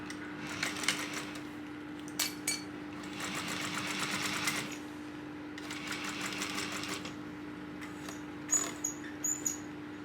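A sewing machine top-stitches a tote bag at a long stitch length in two bursts of fast, even mechanical whirring, separated by quiet pauses with a few clicks and light handling noises, all at close range over a steady hum.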